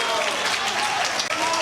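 An audience at a concert applauds for a keyboardist, with dense, steady clapping filling the short stretch and a voice faintly audible underneath.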